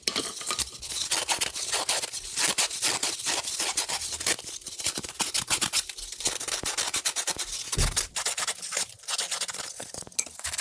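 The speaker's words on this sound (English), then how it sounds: "I've got a piece of 100 grit sandpaper, and I'm just taking off the edge" Close, continuous scratchy rasping of 100 grit sandpaper rubbed back and forth along a styrofoam edge, steady and dense with brief irregular strokes and no talking.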